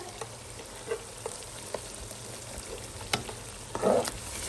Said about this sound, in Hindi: अब टमाटर के पेस्ट के साथ हम इसको अच्छे से भुनेंगे